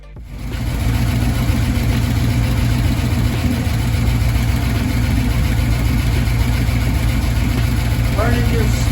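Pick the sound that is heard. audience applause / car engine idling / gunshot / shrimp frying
car engine idling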